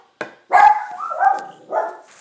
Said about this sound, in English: the dog's like somebody trying to pull up